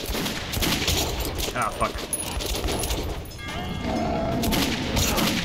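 Bursts of gunfire from the shooter game Metro 2033 Redux crackle in rapid irregular volleys, close and fairly loud, layered with clattering game effects while someone talks and swears over them.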